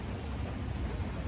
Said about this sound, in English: the rain's kind of died down a lot now